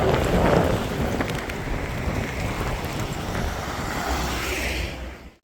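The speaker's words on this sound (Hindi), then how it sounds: "गाइस बारिश बहुत तेज हो रही है, स्टार्ट हो गई है।" Steady, dense hiss of heavy rain pours continuously, with a faint low rumble underneath and no talking.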